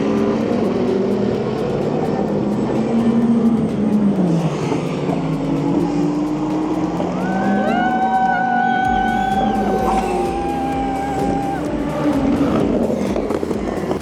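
A Ferrari hypercar races past at the 24 Hours of Le Mans, its engine note rising and falling as it approaches and passes, over a loud, continuous trackside crowd roar.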